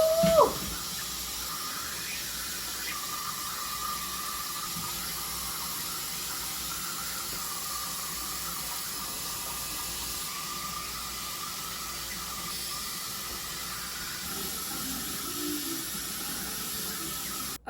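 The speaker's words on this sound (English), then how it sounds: "I'm gonna go wash my hair now." Steady water running from a tap while hair is washed in a sink, a continuous hissing rush that holds evenly throughout, moderately close with no talking.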